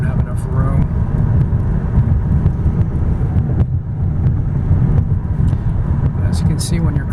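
A 2001 Lexus LS430 Ultra Luxury sedan accelerates moderately in traffic, a low, smooth engine drone and road rumble heard from inside the cabin with someone talking over it.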